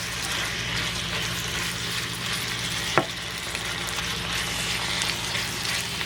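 Beef chop suey cooks in a pan over medium heat, giving a steady, moderate sizzle and bubbling simmer throughout, broken by a single brief click near the middle, with no voices.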